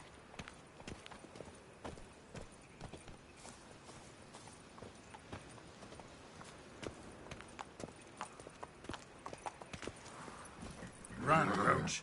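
Roach the horse gallops in The Witcher 3, hooves clip-clopping in a steady, fast rhythm throughout, with a louder burst of game sound near the end.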